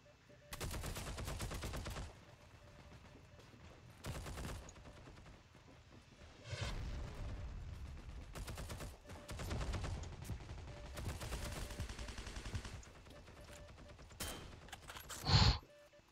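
Rifle gunfire in the World War II video game Heroes & Generals, repeated bursts and single shots with gaps between volleys, fairly close, one sharp loud report near the end, light talk in places.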